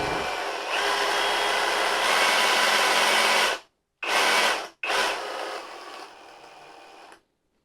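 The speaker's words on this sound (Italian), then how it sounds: "Con questo grilletto possiamo modulare le corse del nostro seghetto." A Parkside Performance cordless jigsaw runs with a steady buzzing whir, then stops, gives two short bursts separated by silence, and runs once more before cutting off; close and loud, no talking.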